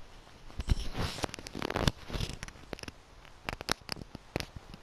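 Rain in Minecraft, irregular pattering and crackly taps of drops in clustered bursts, moderately loud with no talk.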